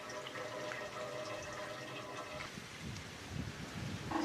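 Petrol pours into a car fuel tank during a Kadett restoration, a faint, steady liquid rush and gurgle that shifts in tone as the tank nears full.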